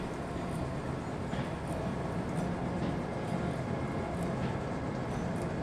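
A train rolls steadily in a railway video game, a continuous rumbling, rattling run with faint rhythmic clicks from the wheels.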